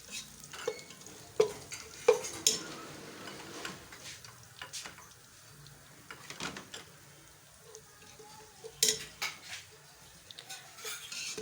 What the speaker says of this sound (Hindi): चम्मच हिलाएं।